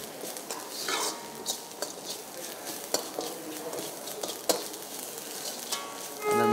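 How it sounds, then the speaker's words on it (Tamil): Spices are sautéed in a pan for vada curry, with a spoon stirring and scraping through a soft sizzle, bringing irregular clinks and scrapes throughout at close range. "நன்றாக வதக்க வேண்டும்"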